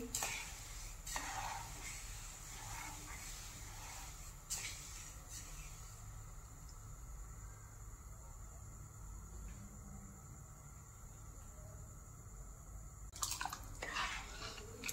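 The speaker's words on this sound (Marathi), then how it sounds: "आता व्यवस्थित मिक्स करून घेऊ" Sugar syrup in a pan over a high flame is stirred: a soft, steady bubbling hiss with occasional scraping clinks of the spoon against the pan, quiet and close.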